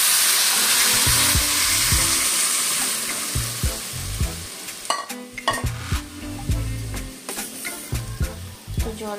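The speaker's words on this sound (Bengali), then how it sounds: "জল অ্যাড করে দিয়ে আমি এটাকে নেড়ে দিলাম" Water poured into a frying soybean mixture, a loud hissing sizzle at first, then a spoon scraping and stirring the pan in rapid uneven strokes, close and clear.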